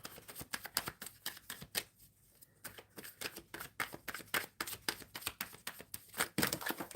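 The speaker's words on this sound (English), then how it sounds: "Shuffling for Shaq." Tarot cards shuffled by hand in steady, rapid riffling bursts, close and fairly quiet, with a short pause midway and no talking.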